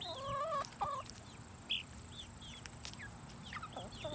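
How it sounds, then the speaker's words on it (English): Five or six roosters cluck and squawk in short bursts, fairly close but quiet, with faint insect chirps in the background. "So there's 5 or 6 roosters in here."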